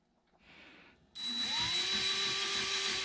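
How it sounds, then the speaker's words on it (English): A power drill boring a hole for a transmission shifter bracket during a TKO-600 transmission swap in a car, starting with a brief faint whir, then a loud steady whine up close. "so I got that hole drilled in there"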